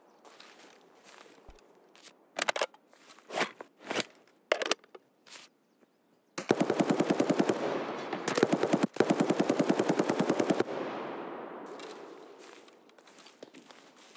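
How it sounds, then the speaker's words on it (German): Automatic rifle gunfire in Escape From Tarkov on the Shoreline map, opening with scattered single shots and footsteps before a long, loud, rapid burst that fades into a reverberant tail. "Ich schieß auf den Typen, okay."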